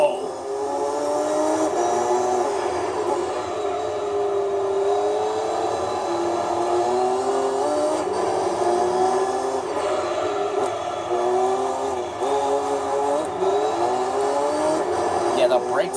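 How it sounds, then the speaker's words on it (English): In Gran Turismo 3, a Jaguar XJ220 race car with a 5-speed gearbox accelerates hard. Its engine drone climbs and dips loudly and without a break through repeated gear changes. "Might sound like we're accelerating slowly as well, but that's only because this car is a 5-speed."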